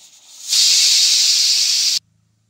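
Second whistle of a pressure cooker cooking egg pulao: a loud, close steam hiss swells in quickly, holds steady for about a second and a half, then stops abruptly into near silence.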